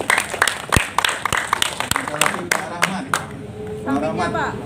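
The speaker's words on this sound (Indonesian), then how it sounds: "Tepuk tangan untuk Bu Iriani" At the closing ceremony of an Indonesian teachers' training event, scattered individual claps ring out sharp and uneven, then fade as people start talking.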